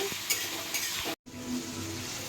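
Liver fry cooking in oil in a pan, a continuous sizzle with a few spoon scrapes and clinks near the start and a brief gap in the middle.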